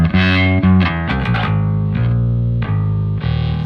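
A Leo Jaymz Rickenbacker-style 4001/4003 DIY bass guitar kit is test played through distortion and chorus-like effects, ringing out a run of sustained, buzzy low notes that follow one another closely and sound loud and upfront.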